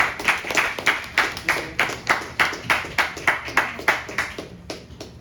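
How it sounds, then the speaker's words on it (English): A small gathering gives a round of applause, heard as a run of distinct, rhythmic hand claps that repeat steadily for several seconds, close and fairly loud, without talking. "Can you show us another round of applause?"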